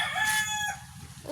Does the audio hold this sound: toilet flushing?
no